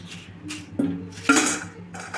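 Crisp, deep-fried murukku clink when tapped against each other, two or three sharp, close clicks over a quiet kitchen background.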